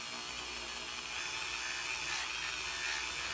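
A Dremel rotary tool at its lowest 5,000 rpm setting polishes with a pad, giving a faint, steady high-pitched whir with no voices.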